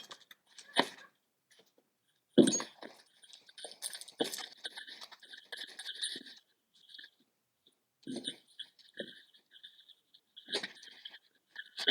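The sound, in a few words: scissors cutting open taped packaging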